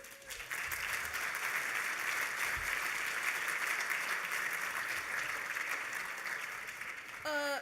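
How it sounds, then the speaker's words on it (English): Steady, fairly quiet applause from an audience welcoming a new director at an event, sustained for several seconds before a voice begins speaking at the very end. "You can applaud her."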